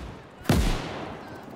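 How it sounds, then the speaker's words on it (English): A gunshot in the WWII strategy game Gates of Hell: Ostfront, where a Maxim machine gun is firing: one sharp, loud report with a falling boom that trails off into a low rumble and battlefield noise. "this Maxim is just destroying my men."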